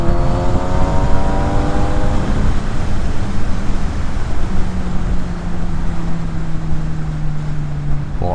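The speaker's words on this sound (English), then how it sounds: "Hopefully in the background you can hear a little bit of the noise that this awesome 4-cylinder machine" A four-cylinder motorcycle engine drones steadily while riding slowly through traffic, its tone sliding down then holding a long even pitch, with wind roar over the microphone and no talking.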